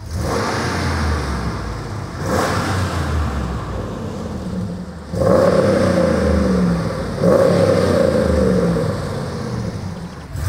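Car engine fitted with two rear silencers, revving and accelerating loudly and close by in repeated surges with a steady mid-range drone, no voices.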